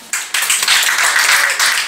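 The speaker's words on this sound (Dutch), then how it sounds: "Graag jullie applaus voor de top van dit jaar." An audience breaks into steady applause at a Miss Wellness Beauty 2019 pageant as the top five contestants are presented, starting abruptly and swelling into a dense, loud wash of clapping that continues throughout.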